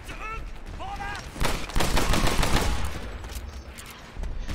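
Rapid pistol gunfire from the Medal of Honor Airborne video game, a burst of quick, loud shots in the middle with game noise around it.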